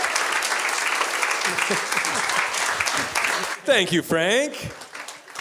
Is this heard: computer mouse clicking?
no